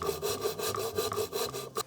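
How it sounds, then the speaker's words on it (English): A hand saw cutting through wood: rapid rasping back-and-forth strokes, roughly four per second, close and steady with no talking. "sawing with the handsaw really does suck"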